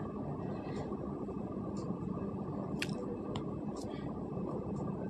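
Onions sizzling in hot oil in a kadhai with bay leaf and whole garam masala, a steady dense crackle and hiss throughout, with a few faint clinks.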